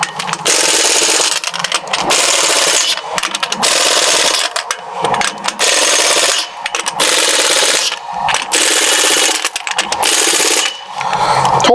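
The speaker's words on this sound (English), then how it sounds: "Now we're going to torque these to specs." Rapid mechanical ratcheting and rattling of a wrench tightening lug nuts on a 2017 Chevrolet Silverado truck wheel, loud and close, in repeated bursts with short pauses between nuts.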